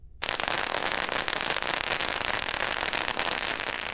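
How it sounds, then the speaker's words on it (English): Fireworks bursting at an outdoor Chinese New Year celebration in Grand Prairie, a dense, continuous crackle of firecrackers and pops that starts abruptly and stays loud throughout, with no voices. "The fireworks are just part of the traditional Chinese New Year celebration"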